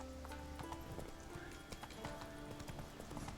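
Roach the horse's hooves clop steadily in The Witcher 3, a quick, continuous clip-clop rhythm close up, mixed with faint game ambience and a brief whinny-like sound.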